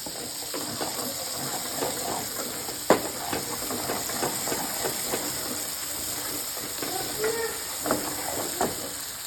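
Masala for a paneer dish frying in oil in a pan while being stirred continuously: a steady sizzling hiss with scattered scraping clicks and one sharper knock, close and moderately loud, with no talking.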